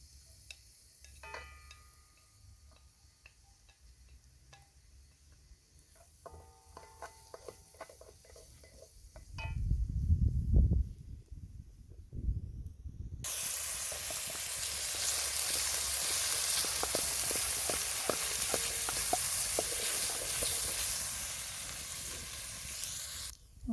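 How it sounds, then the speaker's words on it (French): Onions hit hot oil in a pot over a wood fire: after quiet ticking and clattering, a thud and rumble give way to a steady, loud sizzle that carries on to the end, with no talking. "Donc là maintenant l'huile est assez chaude, donc je vais ajouter les oignons."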